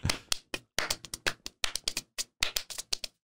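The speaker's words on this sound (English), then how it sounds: "I'm trying to do a fun clap and I'm not doing well." Hands clap in an uneven, playful rhythm, a quick run of sharp, close claps with irregular gaps and short pauses, then stopping abruptly.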